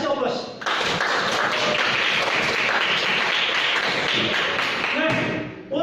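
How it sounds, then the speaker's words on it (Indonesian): Sustained applause from a group in a classroom session, many hands clapping densely together for several seconds before trailing off at the end. "Kita kasih aplaus."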